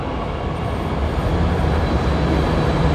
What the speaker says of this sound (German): das ist ein richtiger Zug